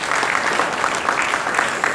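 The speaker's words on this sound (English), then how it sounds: "giving him a big round of applause of thanksgiving" An audience at the Marawi gala dinner gives a big round of thanksgiving applause after a prayer, a steady dense clapping from a large crowd filling the room.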